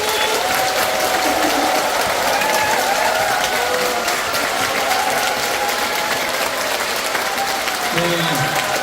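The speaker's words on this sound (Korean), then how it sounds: "이제 황창현 신부님을 여러분들의 뜨거운 박수와 환호로 환영해 주십시오." Audience applause and cheering welcoming a priest at a talk concert in Seogwipo, a dense, steady roar of clapping and crowd noise that sustains throughout with a few voices rising near the end.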